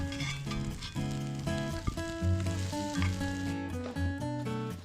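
Eggs frying in sausage grease in a pan at a campsite, a dense continuous sizzle with soft crackles, heard close up with no talking.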